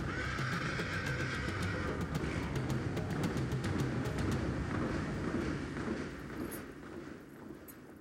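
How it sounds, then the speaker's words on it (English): A thoroughbred horse whinnies in a drawn-out neigh near the start, over a dense, steady rumble of background noise with sharp clicks, fading somewhat toward the end. "the thoroughbred horse"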